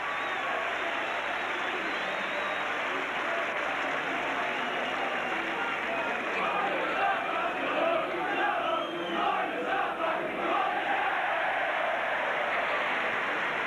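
Rugby league crowd at Leeds v Warrington in 1989 roars and cheers after a kick, a dense, steady wash of voices that swells in the second half, with faint indistinct talk underneath.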